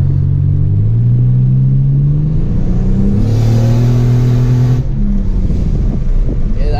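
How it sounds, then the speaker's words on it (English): A turbocharged 500hp sleeper car accelerates hard, its engine rumbling and rising in pitch through the gears from inside the cabin, loud and continuous with a whooshing turbo burst midway. "I think you just turboed it just to hear the sounds."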